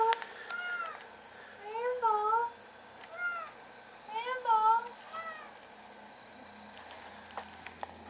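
A cat meows several times in short, rising and falling calls, with clear bursts near the start, middle and end, heard fairly close over a quiet room with faint background noise.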